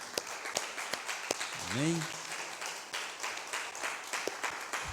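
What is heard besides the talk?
congregation applauding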